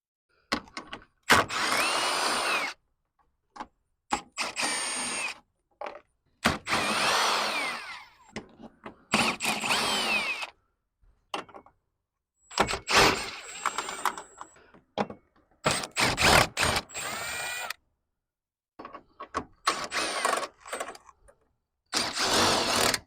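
Power tools removing Torx fasteners from a 2014 Jeep Cherokee bumper, close whirring bursts of a drill or driver starting and stopping repeatedly with short quiet gaps between.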